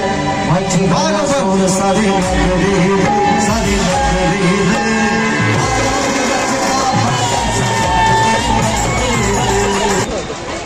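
A dense, loud crowd cheers and shouts at the 2024 Dahi Handi festival in Kamothe as a six-tier human pyramid gives its salute. The roar is continuous, with scattered bangs and excited voices throughout.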